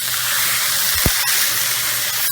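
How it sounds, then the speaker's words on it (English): Steaks searing in a smoking-hot, preheated Lodge 17-inch pre-seasoned cast iron skillet, a loud steady hiss that runs without pause, with a low thump and a few sharp clicks near the middle. "this has been preheating for 5 minutes and it's really smoking, so I got to get them in there"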